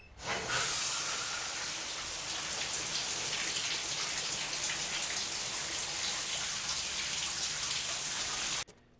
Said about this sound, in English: just the sound of running water and Marion's mundane actions